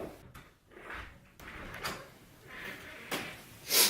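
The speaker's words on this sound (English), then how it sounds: "You could try knocking." A few separate knocks on a door, close by and fairly sharp, spaced over a few seconds in an otherwise quiet room with no voices.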